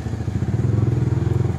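Motorbikes squeeze through a long traffic jam, a close, loud engine putter with a rapid regular pulsing throb and faint clatter.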